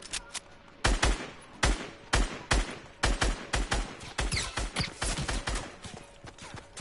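Bursts of gunfire from a PS4 shooter game, sharp shots spaced irregularly across the whole stretch, some in quick volleys, loud and close with no talking.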